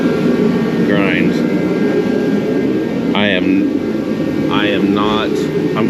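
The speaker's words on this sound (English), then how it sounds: "I guess I'm gonna grind." A grinder works on the body of a Chevrolet Nova street race car during body and paint prep, giving a loud, continuous rushing whine throughout, with a few brief higher chirping tones over it.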